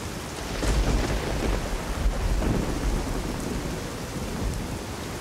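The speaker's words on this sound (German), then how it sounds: "Schön im verfickten Regen, der auch nur ein bisschen laut ist zum Glück" Heavy rain in the video game Fallout: New Vegas, a dense, loud, unbroken roar of downpour with deep rumbling underneath, steady throughout.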